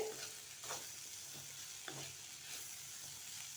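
Pumpkin pieces with turmeric powder frying and being stirred in oil in a pan, a steady close sizzle with soft scraping strokes throughout.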